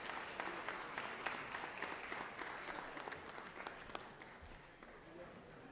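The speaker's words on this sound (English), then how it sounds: "please welcome them with a round of applause" A round of applause fills the Georgia Senate chamber during a legislative session, a soft, even wash of many hands clapping steadily from a distance throughout.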